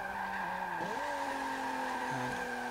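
A 2017 Alfa Romeo Giulia Quadrifoglio drifting in Forza Motorsport 7, with a steady engine drone and sustained tire squeal that shift in pitch midway as the car slides, loud and continuous with no talk.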